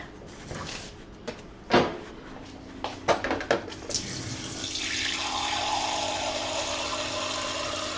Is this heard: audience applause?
no